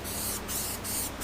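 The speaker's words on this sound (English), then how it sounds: "Now I'm gonna spray some quick check" A steady, close hiss of an aerosol spray can applying guide coat to a car body panel, broken by a few brief pauses between bursts.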